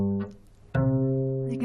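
Two sustained, harmonically rich musical notes form a perfect fourth, like the opening of Here Comes the Bride: a short first note, a brief near-silent gap, then a longer, louder second note held to the end.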